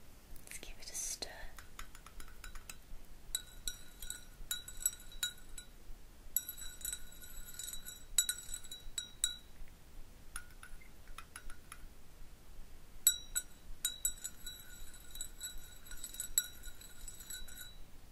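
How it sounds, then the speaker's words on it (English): A spoon stirs a drink in a glass, giving repeated bright clinking bursts in irregular runs with short pauses between, close and delicate, while a voice whispers softly in the background. "Let's give it a stir."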